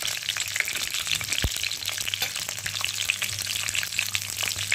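Garlic and nigella seeds fry in a drop of oil in a pan, giving a steady close crackling sizzle with stirring scrapes.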